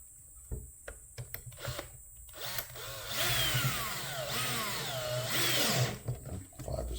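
Cordless power drill on a low clutch setting driving screws into a Breville Barista Express espresso machine, a few brief ticks and clicks and then one sustained whirring run of several seconds, close up with no voices.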